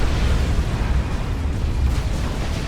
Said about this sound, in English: Rocket run here by Stigma.